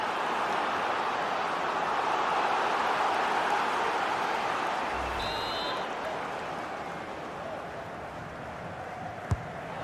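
Steady, wide stadium crowd roar from a FIFA 22 MLS match between Austin FC and Houston Dynamo, a continuous even wash of noise with a faint whistle-like tone midway and a brief sharp knock near the end.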